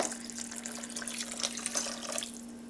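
Broth pours into a crock pot full of vegetables for split pea soup, a soft continuous liquid trickle and splash with a steady background hum.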